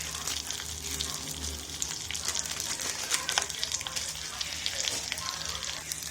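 Pepper, cumin and curry leaves tempering in hot oil for ven pongal, a steady close sizzle with crackling pops running unbroken for about six seconds, with a low hum underneath.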